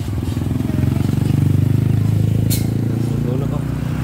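A small motorcycle carrying several riders runs steadily along the road, its engine droning low and constant throughout, with voices talking over it and a brief clatter midway.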